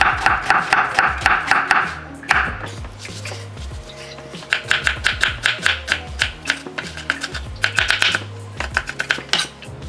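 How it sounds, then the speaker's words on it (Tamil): Knife chopping onion into small pieces on a cutting board, crisp rapid bursts of close, loud chops separated by short pauses. "வெங்காயத்தை சின்ன அப்படி கட் பண்ணி கொள்ளுங்க"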